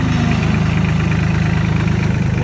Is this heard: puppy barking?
no